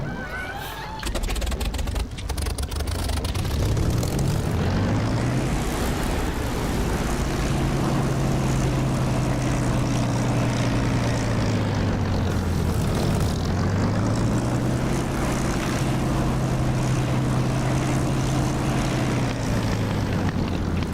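A Spitfire's piston engine starts in the DCS flight simulator: a brief crank, then the propeller engine catches into a loud, steady drone whose pitch rises and dips as the throttle shifts.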